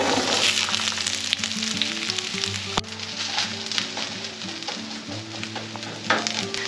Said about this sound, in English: So we got onions and garlic in the pan,